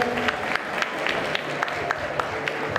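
A crowd at a cosplay contest applauds a contestant, a continuous, even wash of clapping from many hands, moderately loud and steady throughout.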